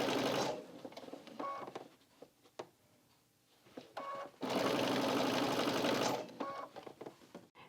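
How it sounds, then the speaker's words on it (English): A sewing machine stitches binding onto the edge of a quilt in bursts of steady mechanical whirring. Quiet pauses fall between the runs, and no one talks. "I'm just going to sew a little bit further just so I can show you what actually happens when you nick into the binding."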